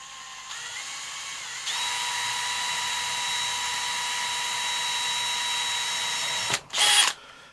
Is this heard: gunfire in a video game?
no